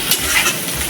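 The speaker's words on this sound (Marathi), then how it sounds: "हे थोडे असे फ्राय होऊ द्यायचे बटाटे आणि मिरची." Diced potatoes and green chillies fry in oil for sabudana khichdi, giving a steady, close sizzling hiss for a brief moment with no talking.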